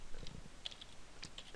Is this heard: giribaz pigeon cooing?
no